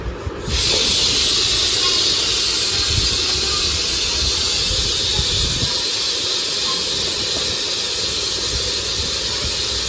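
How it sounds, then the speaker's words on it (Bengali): A pressure cooker with potatoes cooking lets out a loud, continuous whistling hiss of steam that starts abruptly and holds steady for many seconds, close by, with no talking. "আর ওখানে আলু চড়িয়েছে বলে সিটি বাজিয়ে যাচ্ছে।"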